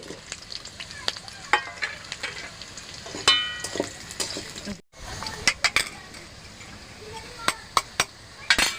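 Fried taro pieces go into hot oil with whole cumin and slit green chillies, making an uneven close sizzle with sharp spatters and utensil clicks and a brief pause midway.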